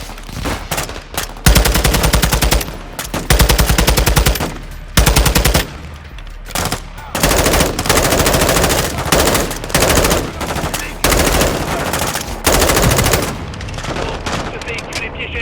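Covering machine gun fire in the video game Call of Duty Modern Warfare 2, long loud automatic bursts separated by short pauses, near and relentless, with brief voices between volleys.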